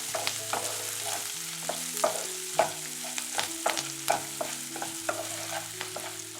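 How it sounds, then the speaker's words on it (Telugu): Carrot and garlic fry stirred in a hot pan, a steady sizzle with repeated spatula scrapes and clinks over about six seconds, close and moderately loud, no voices. "ఇప్పుడు దీన్ని మనం బాగా మిక్స్ చేసుకోవాలండి."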